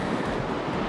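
Ocean waves and wind on the Portuguese west coast in cool November weather, a steady, dense roar of surf mixed with gusty wind buffeting the microphone.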